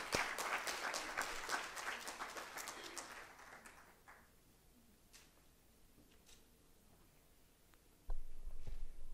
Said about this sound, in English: Give a hand clap of praise.